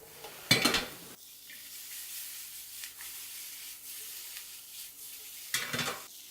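Onions sizzle softly in a pan while ham browns for creamy pasta, a quiet steady hiss broken by two louder bursts of stirring and scraping near the start and end.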